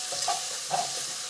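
Salt, chili powder and dried fenugreek leaves are stirred into food in a frying pan: two quick scraping strokes over a soft, steady sizzle.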